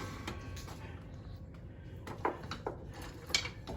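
A wooden spoon stirs homemade sugo sauce in a pot, giving soft scraping and a few light knocks against the pot's side under a faint background hum.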